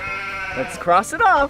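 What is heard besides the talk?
sheep bleating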